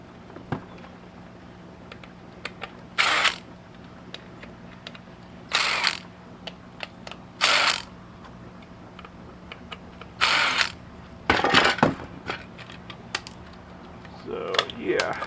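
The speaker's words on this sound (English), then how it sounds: "Okay, the screws are on this side for taking the shell off" Phillips screws are backed out of the shell of a Compaq ProLiant DL380 server, making several short bursts of scraping, ratcheting screwdriver noise separated by quiet gaps, with light clicks and handling sounds in between.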